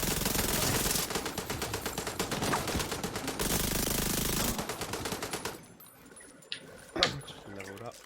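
Rapid automatic gunfire from enemy players in The Division 2, loud and sustained for several seconds in dense bursts, then fading to sparse shots and game effects.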